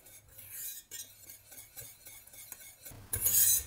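A metal whisk scraping and tapping against a saucepan in uneven strokes as a mixture thickens over low heat, close up, with a brief louder clatter at the end.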